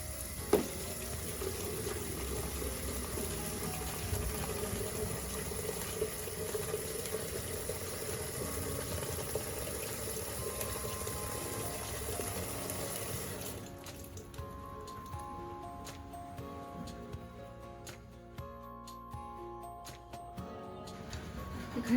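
Water pours steadily into a container to wash raw green mangoes in a kitchen, a continuous splashing rush that stops after about thirteen seconds, leaving quieter dripping and handling sounds.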